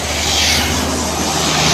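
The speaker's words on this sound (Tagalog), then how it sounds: "Sleeper bus ng Raymond, gawang Del Monte Motor Works." A Raymond sleeper bus built by Del Monte Motor Works passes close by, a short steady roar of engine and rushing air.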